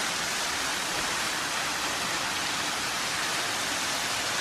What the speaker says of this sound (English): the tallest free-falling waterfall you've come across here